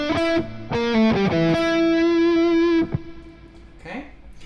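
Electric guitar plays a minor pentatonic lick with a pull-off, clean sustained notes in a short phrase ending on a held root-octave note, then a faint slide and fade, with no talking.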